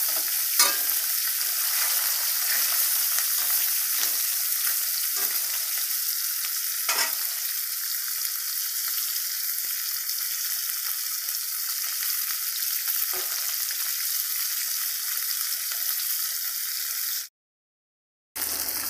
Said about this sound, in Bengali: এই একইভাবে বাকি মাছগুলো আমি ভেজে নেব।